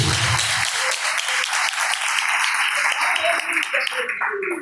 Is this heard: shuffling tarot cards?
no